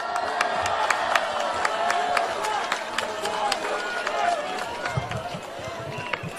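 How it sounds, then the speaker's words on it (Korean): A large outdoor political rally crowd of the Liberty Korea Party applauds and cheers steadily as the next speaker is welcomed, dense sustained clapping with whoops, loud and close throughout. "여러분 큰 박수로 맞아주십시오"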